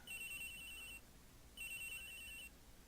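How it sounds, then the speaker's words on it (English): Telephone ringing in Phoenix Wright: Ace Attorney: Trials and Tribulations, a bright electronic trill sounding in two clear bursts separated by a short pause, loud and alone. "we got a phone ringing"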